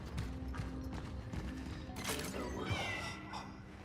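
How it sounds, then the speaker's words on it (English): Cat meowing in the video game Cronos: The New Dawn, a few short mewing calls set against steady game ambience and clattering background sounds, moderately loud. "Where's that kitty?"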